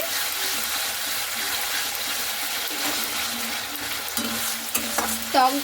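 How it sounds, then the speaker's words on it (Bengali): Sour yogurt is stirred into a fish curry in a pan, a steady sizzle and bubbling with soft scraping, close by, ending in a few louder clinks and scrapes of the spoon. "এবারে টক দইটাকে দিয়ে একটু ভালো মতো করে নাড়াচাড়া করে নিচ্ছি।"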